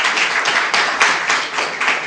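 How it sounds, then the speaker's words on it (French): A small group claps together, a bright, slightly uneven patter of hands in short pulses, close and fairly loud, with no talking. "Vous pouvez l'applaudir, Madame Sey, s'il vous plaît."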